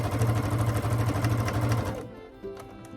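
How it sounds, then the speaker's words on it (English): Sewing machine stitching a quarter-inch seam on a jigsaw quilt block, a steady rapid mechanical whirr for about two seconds that then stops, leaving quieter handling sounds. "Okay, so let's go back and sew this bit. Back to the sewing machine."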